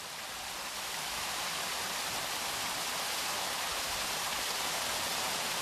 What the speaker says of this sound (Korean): 작은 못을 지나 인공 폭포로 떨어져